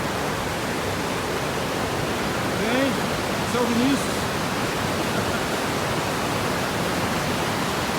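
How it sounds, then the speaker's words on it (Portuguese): Waterfall and rapids of Cachoeira da Gruta in Cristina, Minas Gerais, a steady loud rush of falling water throughout, with a person briefly talking over it. "aqui a cachoeira continua, ó, lá em cima, descendo lá da Serra da Mantiqueira"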